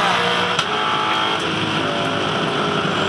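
A 2011 Supercars V8 touring car at the Sydney 500 street race backs off its engine during the rollout before braking, a loud sustained close-up onboard drone with a slight dip in pitch partway through.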